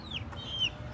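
Chickens clucking in a yard, two short nearby calls over a low steady background murmur.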